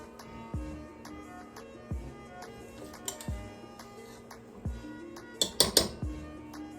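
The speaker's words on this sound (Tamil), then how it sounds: "லைட்டாக வந்து இப்படி கிளறி விடணும்." Cooked jeera rice stirred lightly in a pot, giving soft scattered scrapes and clinks of a spoon against metal, with a brief cluster of sharper clinks near the end.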